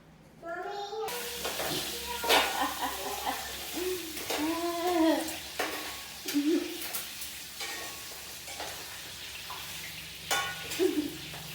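Garlic and onion frying and being stirred in a pan for pork adobo, a steady sizzle with scraping stirs, while voices talk over it throughout.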